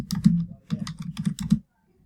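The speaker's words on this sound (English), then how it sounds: "if I typed it correctly" Quick bursts of typing on a computer keyboard, close and crisp, in several short runs of keystrokes, then stopping.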